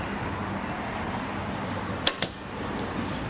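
An arrow is shot from an Obsession Fixation 6XP compound bow, a brief sharp double crack against steady outdoor background noise, followed by a faint tail.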